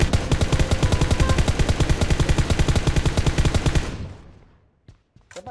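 Rapid automatic gunfire from a weapon fitted with a compensator in PUBG Mobile rattles loudly and continuously for about four seconds, then cuts off, followed by a few faint scattered clicks.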